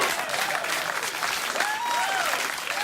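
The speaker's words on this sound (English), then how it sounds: "Now, please don't applaud." A late-night talk show studio audience applauds in a steady, full roar of clapping, with brief whoops and cheers rising over it partway through.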